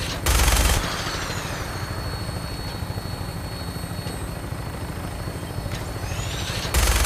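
A Fallout 4 aircraft in flight with minigun fire, a steady rotor-like drone throughout, with loud bursts at the start and end of the sequence.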